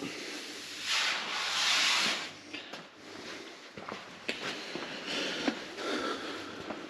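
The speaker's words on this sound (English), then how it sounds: "I'm just going round with a tack cloth, just making sure we've got everything." A tack cloth wiped over car bodywork before painting gives a soft, steady rubbing hiss, close and fairly quiet, with a few brief scuffs and taps and no talk.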